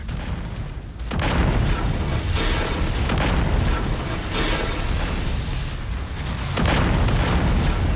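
Heavy mech weapons fire and continuous booming explosions in MechWarrior 5: Mercenaries, loud and dense throughout, with a brief lull near the start before the barrage resumes.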